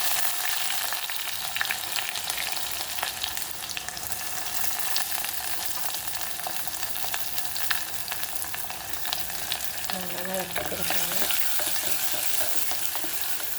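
Red shallots dropped into hot oil with dried red chillies and curry leaves in a dedicated rasam pot for a Palakkad rasam tempering. The sizzle and crackle run loud and steady throughout, with no talking.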